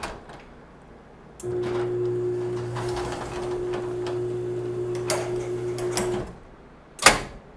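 A LiftMaster 8500 jackshaft garage door opener's power lock runs, giving a steady mechanical hum with a tonal whine for about five seconds, followed by a sharp clunk as it unlocks.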